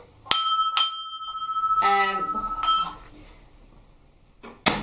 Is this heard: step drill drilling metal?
no